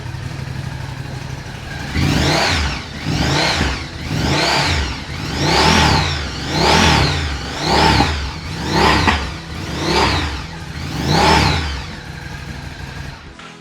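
A Ducati Scrambler 1100 Sport Pro motorcycle engine revs repeatedly, about eight rising and falling blips in a steady rhythm, loud and close.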